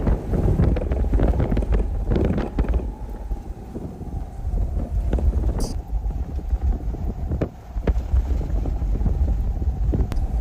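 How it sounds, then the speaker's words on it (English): Derecho winds gusting to 80 miles per hour in Silverton, Texas, a loud, continuous roar buffeting the microphone with surging gusts, no voices. "This is in Silverton, Texas, with winds gusting, to 80 miles per hour."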